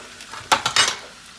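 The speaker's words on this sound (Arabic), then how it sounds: "والآن بضيف الثوم" Garlic added to a pan of Yemeni fish dish and stirred, a few quick clinks and scrapes of a utensil against the pan over a faint background.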